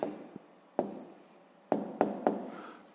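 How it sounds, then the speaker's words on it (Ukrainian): A pen writes an answer by hand on paper, giving a few short scratchy strokes and sharp taps spaced irregularly, close and fairly quiet. "Записуємо відповідь, пишемо відповідь."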